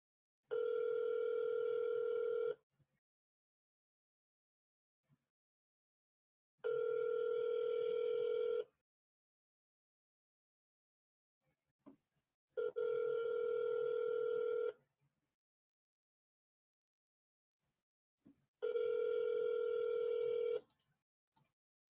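Telephone ringback tone heard on an outgoing call, four evenly spaced steady two-second rings separated by long silences, clear and fairly quiet, with no talk.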